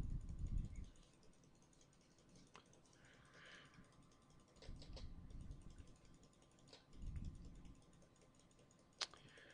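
Faint computer mouse clicking in a room-builder program, a scattering of soft clicks and clatter spread across the stretch.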